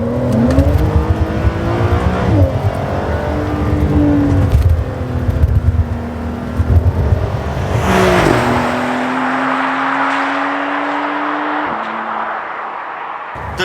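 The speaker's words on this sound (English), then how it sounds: "just listen to how this car sounds like when you floor it" Porsche 911 (992) engine heard from inside the cabin at full throttle, revving hard with rising pitch through quick PDK upshifts, loud and close, then settling into a steady high-speed drone.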